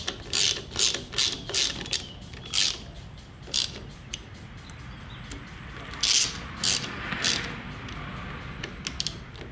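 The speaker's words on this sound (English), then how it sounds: "then we'll tighten these two bolts, and that'll hold the whole assembly in place again" A ratchet tightening the bolts on a Harley grip throttle assembly gives out quick runs of sharp clicks in several short bursts, close to the mic, with pauses between them.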